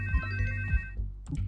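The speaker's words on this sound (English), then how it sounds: "Oh, the phone." A phone rings in the video game Dynopunk, two short electronic ringtone bursts with a pause between, fairly loud and clear with no talking.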